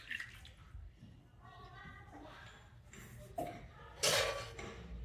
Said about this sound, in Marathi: थोडंच पाणी टाकायचं